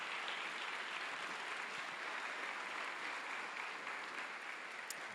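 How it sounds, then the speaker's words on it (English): An audience at an all-county high school band concert applauds in honor of Mr. Frank Williams, a steady, fairly distant wash of clapping with no voices. "yes, please clap for him"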